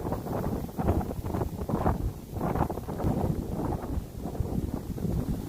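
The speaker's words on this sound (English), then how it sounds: "Boy, that wind is crazy." Strong outdoor wind buffets the microphone in a parking lot in Cape Coral, Florida, with loud continuous rumbling gusts swelling and easing throughout and no talking.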